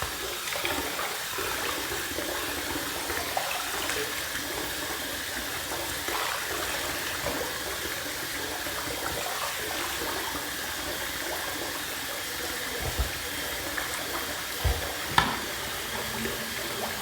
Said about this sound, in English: Let me rinse my head